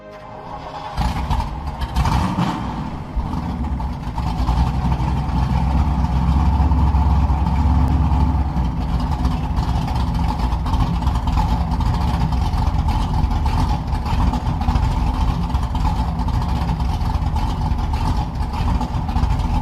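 A car engine in a zombie survival video game turns over and settles into a steady, loud, droning idle that runs unbroken throughout, with no voices.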